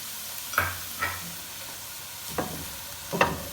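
Chicken filling with finely chopped green chillies and spring onion greens is stirred in a pan over a medium-low flame, with four soft scraping strokes spaced across a quiet sizzle.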